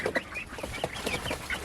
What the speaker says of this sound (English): So bantams are small chickens